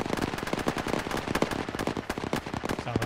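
Rapid bursts of automatic fire from an enemy vehicle in an Arma combat game, crackling, fairly close, with uneven rhythm and short gaps between strings of shots, no talking.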